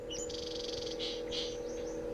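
Small birds chirp beside an old barn while building a nest in a 90s video game, giving bright repeated trills and short tweet bursts over a steady low hum, moderately faint and without talk.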